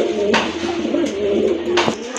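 A pair of racer pigeons offered for sale coo in a steady, low, throaty rolling rhythm, close by, with a few brief rustles or flutters breaking in.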